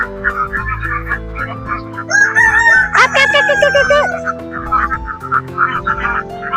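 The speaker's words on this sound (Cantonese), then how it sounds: "呢度係菜園雞啊，好嘈啊，好雞！" Farm chickens cluck and a rooster gives a loud, close crow midway, with excited voices talking over the flock and ducks nearby in a garden setting.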